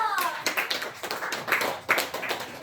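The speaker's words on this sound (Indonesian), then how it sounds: "Tepuk tangan dulu dong." A small classroom group claps in a short, uneven burst of scattered hand claps during a microteaching session, with voices mixed in among the claps.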